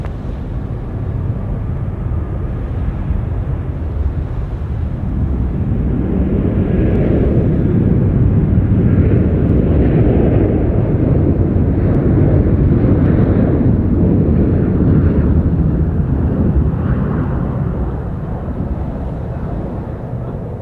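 A Jetstar jet landing on runway 34 left at Sydney Airport, a loud broadband roar that swells toward the middle and slowly eases off, heard alone.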